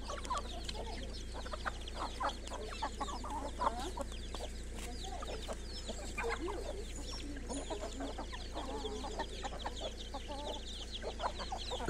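Free-range Indian breed chickens on a farm near Águas Claras, MS, clucking in a busy, overlapping flock, with frequent short calls over a low steady background hum.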